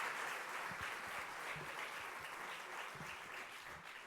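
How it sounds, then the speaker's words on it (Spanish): Soft, distant audience applause for a speaker at an institutional conference session, a faint steady patter of many hands clapping throughout, low in level. "pido ese aplauso para ella"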